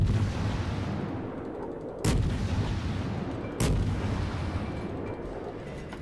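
Artillery shelling in a naval video game, with two sharp heavy blasts about a second and a half apart cutting through a constant dense rumble of battle noise, no talk.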